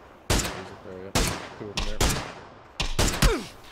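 Bursts of video game gunfire from a team firefight, sharp broadband cracks in four or five clusters over a few seconds, fairly close, with voices talking between shots.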